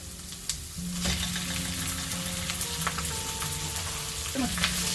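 Eggs stir-fry with mushrooms in a hot pan, giving a steady close sizzle and crackle with occasional scrapes and stirring knocks.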